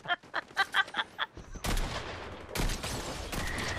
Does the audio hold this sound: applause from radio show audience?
no